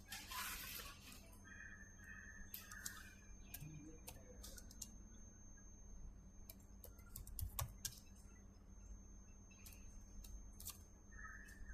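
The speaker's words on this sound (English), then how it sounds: "Let us type Hydra." Someone types on a computer keyboard in quick, irregular bursts of close, crisp keystrokes with short pauses between them, over a low steady hum.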